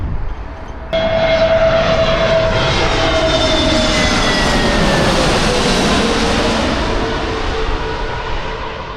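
A jet airliner arriving from Cairo roars in loud and near on approach to Heathrow, its engine whine sweeping in pitch as it passes overhead and then slowly fading.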